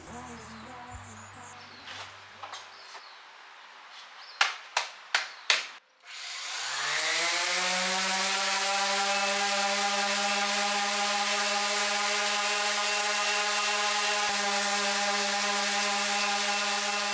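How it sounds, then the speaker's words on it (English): An orbital sander works wood, stepping from 100 to 220 grit. Its steady high whine starts partway in after a few sharp knocks and keeps droning loud and even to the end, with no talking. "I sanded for a while, working up from 100 grit on my orbital sander to 220."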